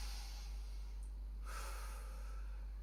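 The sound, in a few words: deep breath during post-workout stretch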